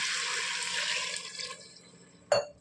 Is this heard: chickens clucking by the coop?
no